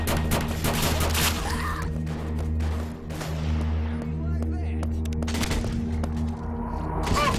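Gunfire from a gun in the video game BrainBread 2, with sharp repeated shots over a steady low game hum, loud and close, in bursts at the start and end.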